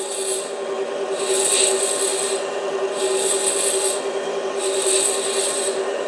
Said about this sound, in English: so I've got to bore this out to